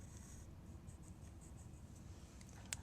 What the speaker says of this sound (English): Take your tracing paper and trace your figure.